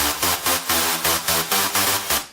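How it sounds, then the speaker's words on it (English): A bright, buzzy sawtooth synth bass plays a quick rhythmic pattern of short pulsing notes with lots of high-end fizz. "Kind of a ravey, classic sawtooth sound with a lot of high end going on"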